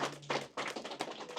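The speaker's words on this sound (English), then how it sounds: "Ricardo Miles, clap it up for him" Small audience at a fathers-and-families gathering clapping for a guest, a short burst of a few close, loud, irregular hand claps with no talking.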